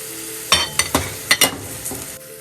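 Masala with tomato sizzling in a pan for fish curry, with a spoon scraping and clinking against the pan in several irregular strokes over a steady frying hiss, close and clear.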